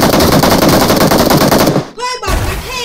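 Rapid automatic gunfire from a prone shooter in a video game, a loud dense burst lasting nearly two seconds before cutting off, followed by brief electronic game effects.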